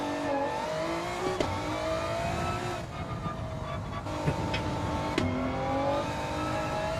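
Clio Cup race car engine in a racing video game, a steady droning tone with pitch shifts as the car spins and strikes a wall, with a few sharp knocks; continuous and fairly close.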